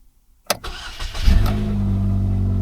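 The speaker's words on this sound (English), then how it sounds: "it should be a quick crank and it should start right up" A 2007 Chevrolet Cobalt, previously troubled by a crankshaft position fault, gives a sharp click and a brief starter crank, then catches quickly and settles into a steady, close idle.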